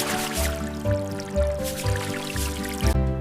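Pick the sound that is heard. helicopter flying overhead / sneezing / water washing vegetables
water washing vegetables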